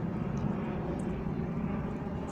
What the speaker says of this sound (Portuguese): Olha só o tamanho desse avião que está passando aqui em cima do distrito industrial